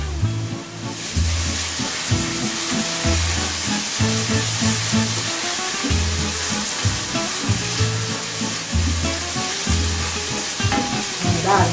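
Solyanka with a spoonful of tomato paste sizzles steadily in a frying pan while being stirred, with continuous close frying crackle over repeated low thumps of the spoon working through the mixture.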